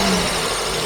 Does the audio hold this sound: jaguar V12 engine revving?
yes